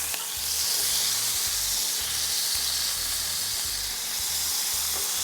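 Beef for a pot roast sears in a hot pan after being flipped, giving a steady, loud sizzle and hiss with no voices.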